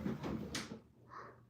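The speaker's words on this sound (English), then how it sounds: "I'm gonna close that door." Someone shuts a door inside a home: a single soft thud with a brief rattle, fairly faint, then a quiet room.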